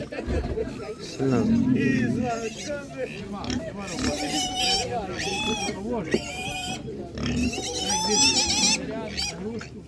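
Pigs grunt and squeal repeatedly up close at a livestock market, with a busy murmur of people and chatter mixed in throughout.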